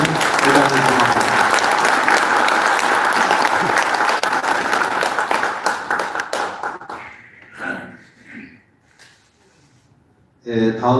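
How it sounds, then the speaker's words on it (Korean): An audience at a senior citizens' association presidential inauguration ceremony applauds the new president, with loud, dense clapping for about seven seconds that thins into scattered claps and quiet, and a voice then starts speaking at the end. "이중근 회장을 축하하는 큰 박수를 다시 한번 보내주시면 대단히 고맙습니다"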